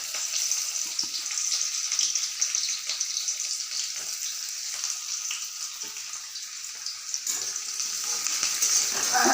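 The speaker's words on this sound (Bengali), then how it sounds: "এখন আমি আদা কুচি, পেঁয়াজ কুচি, লঙ্কা কুচি আর রসুন কুচিটা দিয়ে দেব।" Chopped ginger, onion, chili and garlic frying in hot oil for vegetable momo filling give a steady, close hiss of sizzling that holds at an even level throughout.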